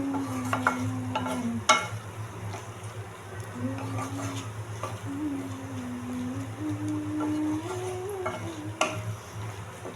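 Dried fish bhuna frying in a pan while a spoon stirs it, with a soft continuous sizzle, occasional scraping and clinks close by, and a faint steady hum underneath.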